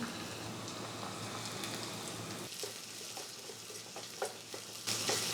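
Ginger, green chillies and curry leaves sizzle gently in a pan while being stirred, a quiet continuous crackle with a few scraping clicks of the spoon near the end.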